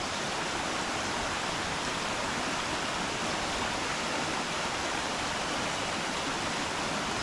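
A constant, loud rush of a fast, forceful rain-fed stream fills the scene, an unbroken roar with no pauses or voices.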